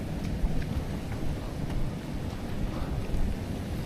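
Steady rain falling outdoors at the Philippine Arena, a dense low patter with a soft rumbling wash beneath it and no voices.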